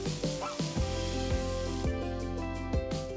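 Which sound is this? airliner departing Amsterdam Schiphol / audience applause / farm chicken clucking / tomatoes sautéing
tomatoes sautéing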